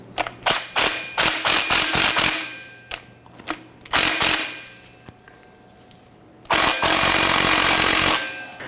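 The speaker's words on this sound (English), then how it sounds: "I'm gonna go ahead and snug down this upper nut." An impact tool hammers the upper strut nut on a 2009-2015 Honda Pilot front strut in loud rattling bursts: a long stuttering run, then a short burst and a final sustained buzz, close up with no talk.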